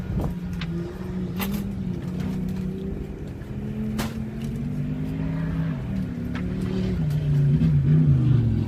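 Comp Mod and stock race cars circling a dirt track at the Wild West 100 in Columbus, Montana: a sustained engine drone that rises and swells toward the end, heard from trackside with no talk.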